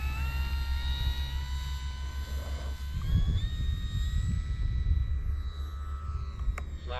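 An FMS 1700mm PA-18 Super Cub RC model airplane flying a touch-and-go, its electric motor whining steadily at a distance, rising slightly in pitch, with a broad wind-like rumble through the middle.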